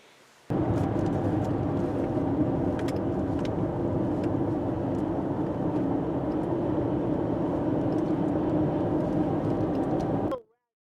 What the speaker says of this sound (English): So I take you on a 30-second ride on a highway in Kentucky.